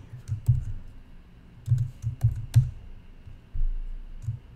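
Short bursts of keystrokes clatter on a computer keyboard as an email message is typed, with quick clusters of clicks separated by pauses, close and fairly quiet.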